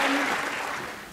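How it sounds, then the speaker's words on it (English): Dinner audience applauding as the committee chair is called to the stage, a dense wash of clapping that starts loud and slowly fades over about a second. "let's give a warm round of applause to their chair, their leader, Vanessa Trumpeter,"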